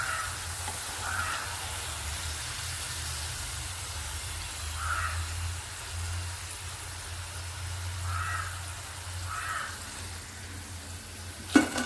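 Steady low hiss and crackle of potato chips frying in hot oil, continuous and fairly quiet throughout, ending with a brief clatter.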